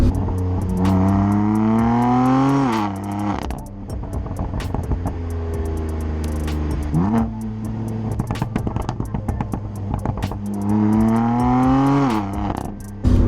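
A turbocharged BMW car engine revs up repeatedly, pitch climbing under acceleration, with a steady hum between pulls and some ticking clatter.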